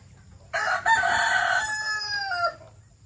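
A fighting rooster crows once nearby, a loud, drawn-out cock-a-doodle-doo lasting about two seconds over a quiet farm background.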